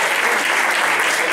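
Audience applause for a group at a live group performance, a dense, steady wash of clapping filling the whole moment without pause.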